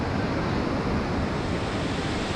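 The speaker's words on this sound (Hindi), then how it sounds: "आप देख सकते हैं नदी में अभी कितना उफान है" The swollen Nilganga river rushes in spate along a Himalayan trek route in Uttarakhand, a loud, steady broadband roar of fast water that fills the scene without pause, with wind on the microphone.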